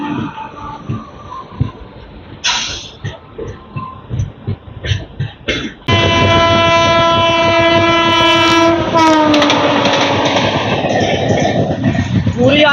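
Padmavat Express passenger train roaring past close by with a long, loud horn blast and steady wheel rumble, after a stretch of people talking aboard a moving train.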